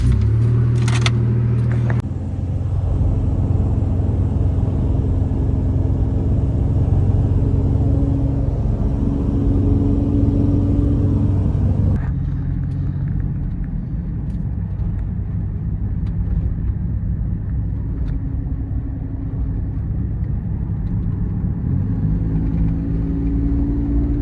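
Steady low road rumble and engine drone heard from inside a moving truck cab, with the tone shifting partway through as the drive continues.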